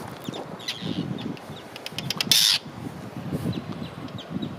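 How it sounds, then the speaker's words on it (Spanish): Arctic terns diving to attack an intruder, giving sharp, harsh calls in short bursts over a low windy background, with one loud rasping cry standing out partway through. "Estos pajaritos atacan si te acercas y te pican en la cabeza y te hacen sangre"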